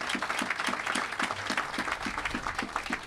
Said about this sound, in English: a round of applause for our legislators who are here